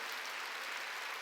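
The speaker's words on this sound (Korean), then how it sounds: "깨달은 사람만 박수 쳐요." Congregation clapping at a Sunday church service, a dense, steady wash of applause filling the space without a break, fairly faint and with no voices over it.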